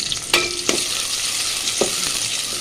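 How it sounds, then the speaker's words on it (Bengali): Chopped onion and a bay leaf sizzle loudly in hot oil for restaurant-style moong dal, a bright, close, continuous hiss broken by a few sharp clicks of a spoon in the pan. "এই পর্যায়ে আমি বড় সাইজের একটা পেঁয়াজ কুচি করে আর দিব একটা তেজপাতা মাঝখান দিয়ে ফেলে দিয়েছি।"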